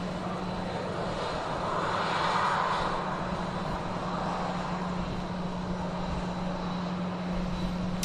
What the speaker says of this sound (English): Air France lined up to depart on the south runway out to Paris